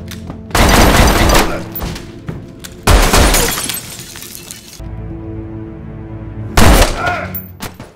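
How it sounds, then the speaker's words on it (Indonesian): Loud bursts of gunfire erupt in rapid fusillades, mixed with shattering glass and debris, with a tense, rumbling lull between volleys. "melepaskan tembakan yang brutal dan tak terarah"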